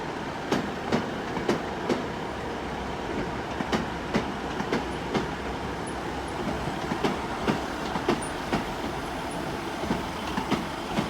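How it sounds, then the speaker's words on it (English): A Great Western Railway train departs Exeter St Davids for Exmouth, its wheels clicking over rail joints in a steady, regular rhythm against a constant rolling rumble, close by and loud. "about to go out now will be the Great Western Railway service to Exmouth"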